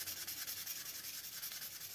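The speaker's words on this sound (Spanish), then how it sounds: "Vamos a lijar el otro." A craft figure is sanded by hand in close, steady rubbing strokes that come in a quick even rhythm, faint and continuous, with no talking.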